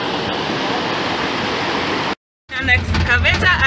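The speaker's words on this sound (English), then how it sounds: "we are passing through a river" River water rushes at a water treatment intake, giving a loud, steady roar of flow. The sound cuts out briefly, then returns with voices talking over it.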